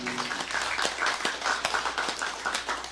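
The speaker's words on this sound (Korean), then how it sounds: "하나님께 영광의 박수 올려드립니다" A church congregation applauds together in a large hall, a dense continuous patter of many hands at moderate distance, steady throughout with no speech over it.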